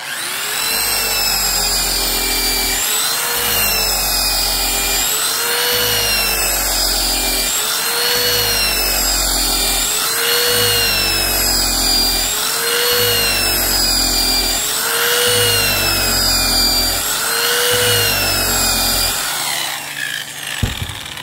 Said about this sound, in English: finalize it real quick with our 420 grit fabric wheel